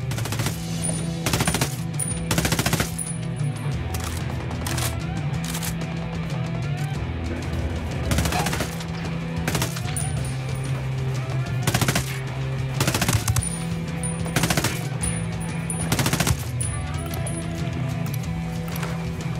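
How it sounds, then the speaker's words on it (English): Sustained machine gun fire in an action game set in Bolivia: loud rapid bursts of shots repeating over a steady low rumble, with no voices. "Opening fire."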